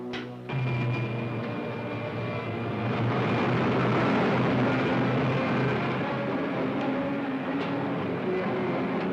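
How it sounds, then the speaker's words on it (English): A jet engine starts up in an old adventure serial with a loud, steady broadband roar that begins abruptly, swells slightly and holds at full strength without letting up. "Starting jet."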